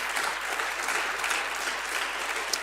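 A congregation at a church service claps loudly together in praise, a thick, continuous wash of applause with no talk over it.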